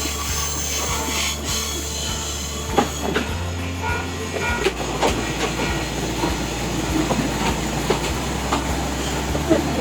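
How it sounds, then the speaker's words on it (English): Train ride through rural Kyushu, Japan: a steady low rumble of the carriage fills the whole stretch, with scattered clicks and knocks from the rails and a faint murmur of voices in the background. "we just taken a train."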